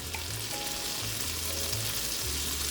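Scallops and shrimp fry in a hot pan with a dense, steady sizzle that stays loud and continuous throughout, with faint tonal hums underneath.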